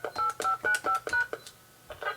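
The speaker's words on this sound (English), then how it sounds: "I'm going to dial in right now into my conference line." A regular phone keypad dials into a conference line, producing a quick run of about eight crisp DTMF tones, closely spaced and evenly paced, then a short pause before two more tones follow.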